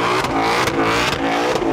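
A 2020 Shelby GT500 at a drag strip, engine loud and close, revving hard with a steady growling roar and rising pitch as it spikes the tires for launch.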